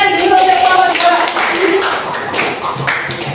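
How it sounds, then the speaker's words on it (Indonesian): A small group claps hands at an academic coaching session, scattered and fairly close, with voices and chatter heard alongside the claps. "Jadi tepuk tangan dulu untuk kelompok"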